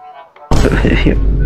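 A loud explosion in a night-time horror video game bursts in after a quiet stretch and rumbles on as a dense, booming roar, close and forceful.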